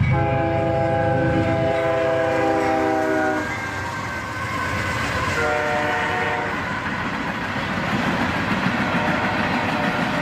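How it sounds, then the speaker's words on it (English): A Herzog ballast train led by four locomotives, an ES40DC, two AC44CWs and an ES44ACH, thunders past nearby, its horn blaring in two long blasts over a continuous heavy rumble of engines and wheels. "Four locomotives lead this Herzog ballast train, an ES40DC, an AC44CW, an ES44ACH, and another AC44CW."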